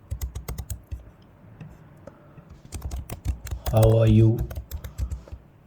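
Rapid clicks of a computer keyboard as Python code is typed, quick bursts of keystrokes alternating with a voice talking between and over them.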